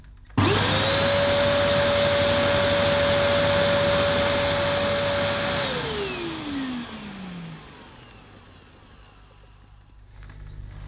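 A Dyson DC03 vacuum cleaner switches on abruptly and runs with a loud steady whine and roar, then spins down with a falling pitch before cutting off.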